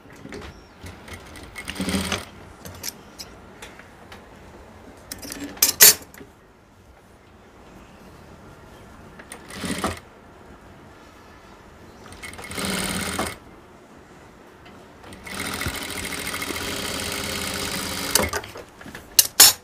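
Sewing machine running in short bursts while stitching the high join seam on a pair of trousers, with several separate stretches of whirring stitching, the longest toward the end, close and fairly loud, separated by quieter pauses.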